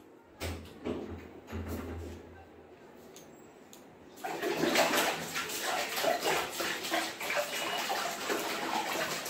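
Water pours and splashes steadily while someone bathes, a soft muffled rush for the second half, after quieter thumps and rustling.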